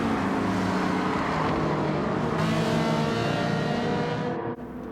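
A race car in the Gran Turismo 7 video game holds a loud, steady engine roar at speed, the drone shifting slightly in pitch as it runs along without any talk.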